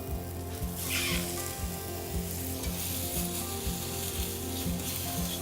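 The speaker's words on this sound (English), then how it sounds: "And you wanna hear that sizzle?" Mushrooms and shallots sizzle steadily in hot oil, a dense crackling hiss, with a faint rhythmic mechanical whir running underneath.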